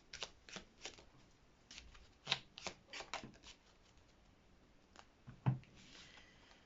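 Tarot cards shuffled and drawn by hand, heard as soft, close papery riffles and slaps in quick irregular bursts, quiet and alone without speech.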